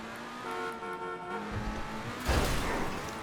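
Pegassi Reaper sports car in GTA 5 Online, its exhaust note a steady droning engine tone that swells louder as the car accelerates, heard close with no talking.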